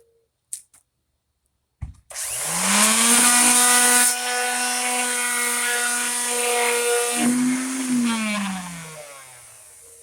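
An electric sander works a wooden desktop with 120-grit paper. After a couple of faint clicks, the motor spins up into a loud, steady whining drone, holds for several seconds, then eases off slightly toward the end. No talking.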